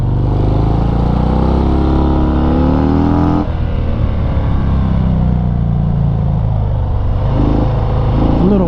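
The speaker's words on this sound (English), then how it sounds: "This bike just pulls and pulls out of these corners like we're not even going uphill." A 2019 Harley-Davidson FXDR 114 motorcycle engine pulls hard out of corners uphill, a loud, close, continuous rumble that rises in pitch, drops as the rider shifts, then climbs again.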